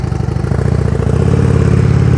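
A motorcycle engine chugs steadily at low revs during slow-speed leaning turn practice, loud and close, with a throbbing rumble that rises slightly as the bike rolls along slowly.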